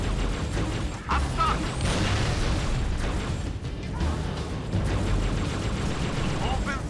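Continuous turret gunfire in Halo Reach, rapid dense shots and booms over a busy battle din, loud and sustained throughout.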